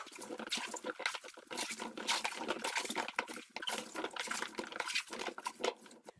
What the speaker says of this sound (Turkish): Şimdi bütün malzemeyi böyle harmanlayıp karıştırıyorum.